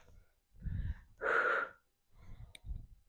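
During a fitness workout, heavy breaths are pushed out in several forceful, rhythmic bursts, close and audible, with a short sharp one near the end and no talk over them.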